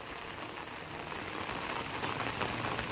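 Flood water pours from a burst village lake after days of rain, a steady broadband rushing wash with no break, fairly close and even in level throughout.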